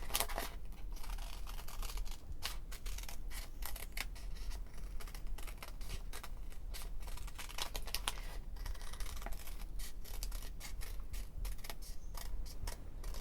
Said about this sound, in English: Very simply, you cut this out like so, all the way around.